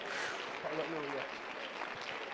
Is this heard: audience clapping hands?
yes